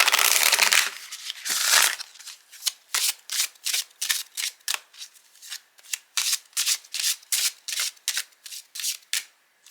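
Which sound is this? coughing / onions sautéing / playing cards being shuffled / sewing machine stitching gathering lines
playing cards being shuffled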